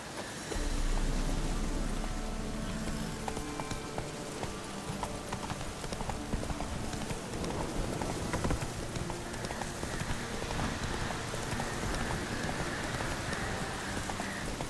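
Hooves of Geralt's horse Roach in The Witcher 3 clip-clop steadily and close up through the whole stretch, mixed with a steady rain-like hiss and no talk.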